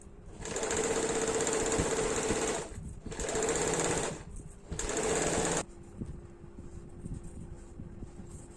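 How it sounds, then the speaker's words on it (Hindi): A sewing machine stitches a seam on a deep-neck kurti in three loud, steady bursts of fast whirring separated by brief pauses, then falls quiet apart from faint handling noise. "यहाँ एक और सिलाई डाल देंगे।"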